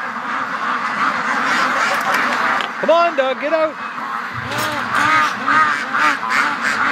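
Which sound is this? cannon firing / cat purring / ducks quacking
ducks quacking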